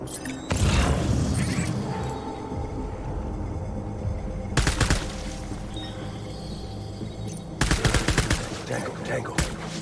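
Sustained gunfire from the video game Death Stranding: heavy bursts of shots at about 0.5, 4.6 and 7.7 seconds over a continuous rumble of combat, loud and close, with no one talking.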